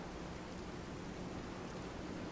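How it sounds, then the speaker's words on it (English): Steady, even hiss of radiation rain during a storm in the Fallout 4 video game, a constant dense wash of rainfall with no distinct drops or voices. "Radiation rain."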